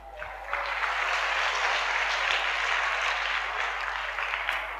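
Audience at a lecture breaking into sustained applause, a steady wash of clapping lasting a few seconds before fading slightly.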